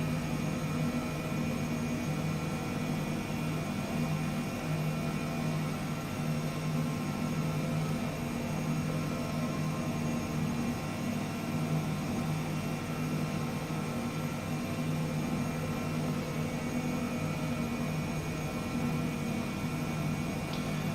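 H135 helicopter descending in Microsoft Flight Simulator, a steady, even turbine whine and rotor drone that holds unbroken throughout at moderate level, with no voices.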